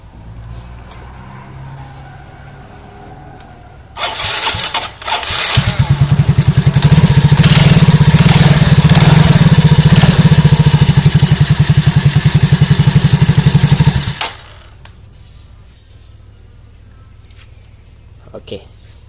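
A Yamaha Ego S FI scooter-style motorcycle, fitted with a replaced automatic transmission part, cranks with a clatter, fires up and idles loudly with a steady buzzing rumble for about ten seconds before shutting off.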